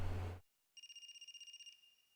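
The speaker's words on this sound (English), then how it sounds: "Is that a phone ringing?" A phone rings in the video game AI: The Somnium Files, a repeating electronic trill of rapid pulses that starts after a short burst of other sound and a moment of silence, then stops abruptly.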